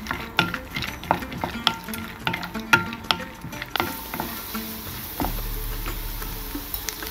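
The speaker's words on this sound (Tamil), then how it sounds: "ஒரு தேக்கரண்டி நெய் விட்டு 50 கிராம் கஜுவை போட்டு பொரித்தெடுக்கவும்" Cashews frying in a spoonful of ghee for kesari, crisp clinks and taps of a spoon against the pan over a light sizzle that thickens into a steadier frying hiss toward the end, no voices.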